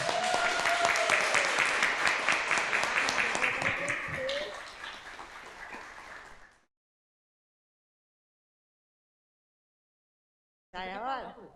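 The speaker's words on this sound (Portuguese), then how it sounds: "Uma salva de palmas para a Clerinha." Applause fills a municipal council session, a dense steady clapping from the chamber that fades out over about six seconds, followed by silence and then a brief burst of other sound.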